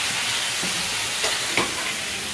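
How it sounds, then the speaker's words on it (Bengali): Bananas frying in a pan give off a steady, close broadband sizzle and hiss, with a couple of brief sharper crackles. "কলা ভাজা।"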